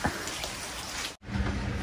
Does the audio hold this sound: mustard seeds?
no